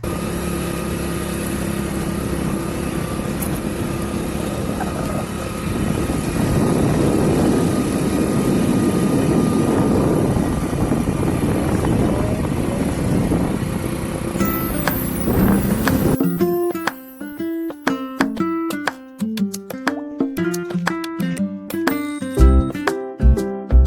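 A motorbike rides along a hill road toward Lansdowne, its engine droning steadily at close range with wind rush for about fifteen seconds before music takes over.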